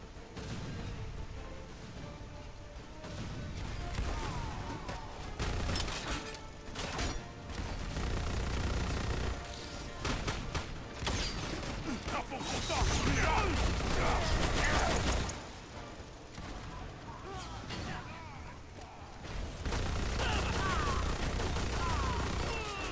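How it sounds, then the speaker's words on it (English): Gunfire from a shotgun and other weapons in the video game Lost Planet 2, with dense bursts of shots and explosions running throughout, loud and continuous with short lulls. "Who's shooting at me with a shotgun?"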